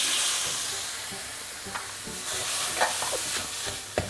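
Wild boar curry with coconut milk being stir-fried in a pan, a soft continuous sizzle and steam hiss broken by occasional light scrapes and clacks of a spatula, fairly quiet and close.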